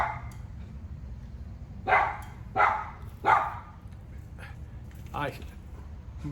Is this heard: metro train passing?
no